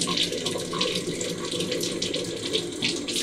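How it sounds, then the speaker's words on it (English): Warm tap water runs steadily through a reflux condenser into a laundry trough, a loud continuous splashing rush close by with no break. "Just run warm water through the bottom of the condenser"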